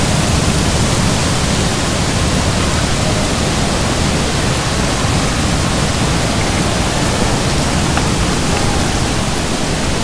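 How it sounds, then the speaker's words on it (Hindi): A small waterfall at a garden fountain in a botanical garden, a steady, loud broadband rush of falling water that holds even and unbroken throughout, with no voices. "यहाँ पे एक बहुत सुंदर जगह है, फुआरा टाइप का, फुआरा नहीं झरना टाइप का"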